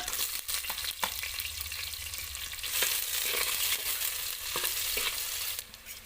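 Mustard seeds, curry leaves, garlic and onion sizzle steadily in hot oil, a dense continuous crackle with occasional spatula scrapes and clicks, close and moderately loud with no talking.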